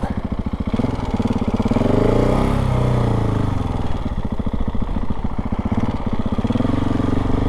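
A KTM 690 Enduro R single-cylinder motorcycle engine idles loud and close with a rapid, even thump. It rises into a rev and settles back to a steady, throbbing idle.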